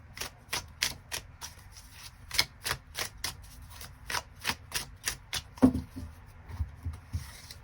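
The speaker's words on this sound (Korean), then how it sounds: "나의 연애에 필요한 조언의 카드 무엇이 있을지 추가 카드 뽑아보도록 하겠습니다" Tarot cards being shuffled and drawn, a quick series of sharp riffling snaps in an even rhythm, close and clear, with a soft card slide near the end.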